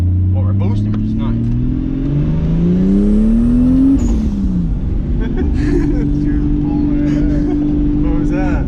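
A turbocharged Supra truck engine revs hard under boost, its pitch climbing through the gear then dropping and settling into a loud sustained drone, with turbo whine and flutter close by.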